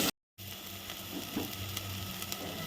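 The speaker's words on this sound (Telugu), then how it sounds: "ఒక 2 టమోటాలు సన్నగా తరిగి అది కూడా వేసుకొని బాగా వేగనివ్వాలి." Finely chopped tomatoes frying in a pan for a mutton and drumstick curry, a dense steady sizzle heard close after a brief cut of silence at the start.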